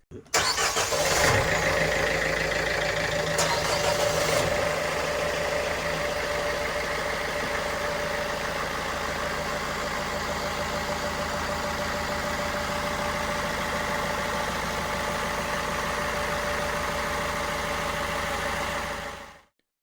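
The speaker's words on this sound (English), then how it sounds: "now cleverly integrated with modern Yanmar JHT 110 diesels, installed in 2019" Twin Yanmar JHT 110 diesel engines, fitted in 2019, idle aboard a restored 1931 Stephens Brothers 43 wooden boat, giving a steady, loud, continuous rumble with a brief start-up rise at the beginning and no voices.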